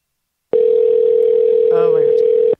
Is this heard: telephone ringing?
yes